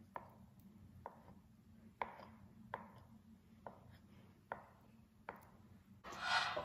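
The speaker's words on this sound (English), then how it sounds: "I'm just gonna roughly slice them up" A knife chops through food on a cutting board, seven or eight sharp, evenly spaced cuts about a second apart, followed by a brief rustle.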